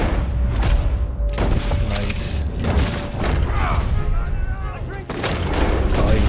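Gunshots in a Red Dead Redemption II shootout at an O'Driscoll camp, sharp cracks and booms scattered through a dense, loud game mix with voices talking over it.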